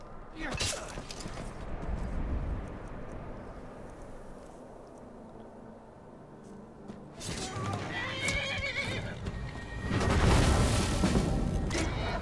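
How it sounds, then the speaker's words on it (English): Horse neighing and whinnying with clip-clopping hooves in the video game Skyrim, loud whinny bursts near the start and end over steady trotting, with talk in places. "Did I just shoot my horse?"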